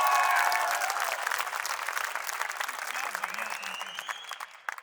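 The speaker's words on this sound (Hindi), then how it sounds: "एक बार तालियां बजाइए जोर से।" A poetry gathering (kavi sammelan) audience breaks into applause that starts loud and slowly thins out. Voices and a vocal tone run beneath the clapping.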